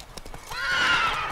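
A horse whinnies loudly and close in The Witcher 3: Wild Hunt, a rising then sustained neigh that follows a few soft hoof clops, with no talking.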